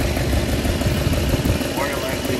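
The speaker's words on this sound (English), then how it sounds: "One thing we got to check is this exhaust leak." Ford 5.4L V8 idling with an exhaust leak from a suspected cracked manifold or broken manifold bolts, a steady close rumble with a ticking, puffing edge running the whole time, with voices faintly present.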